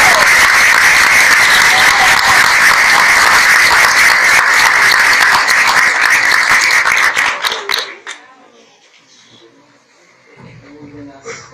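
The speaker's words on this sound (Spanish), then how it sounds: "Quisiera que lo recibamos con un fuerte aplauso." Strong sustained applause from a university conference audience, dense and loud for about eight seconds before dying away abruptly into near silence.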